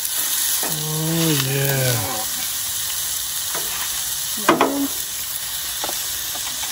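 Pork burgers with cheese, oregano and garlic sizzle in olive oil on a camp stove beside a Jeep tailgate while camping in Bryce Canyon, Utah, a steady close frying hiss under brief talking.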